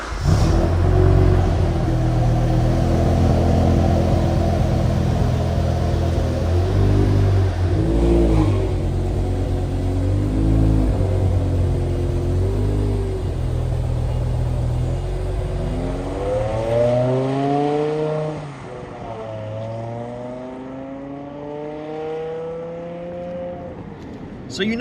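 A BMW M6 with a V10 engine revs while being driven. A loud, sustained engine drone rises and falls through several pulls and gear changes, easing to a lighter, varying note near the end, with speech at times.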